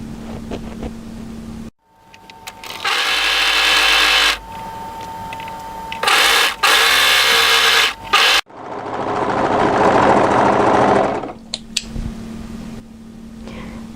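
A sewing machine stitches the underarm seam of a sleeve on a draped-front, shawl-collar hooded coatigan, running in several sustained bursts of close, steady whirring separated by short pauses, with no talking.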